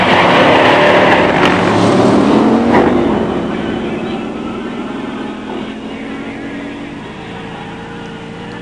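A drag race between a 1968 Dodge Charger Hemi four-speed and a 1968 Plymouth Roadrunner Hemi automatic roars loud and close, then fades steadily as the cars pull away down the strip.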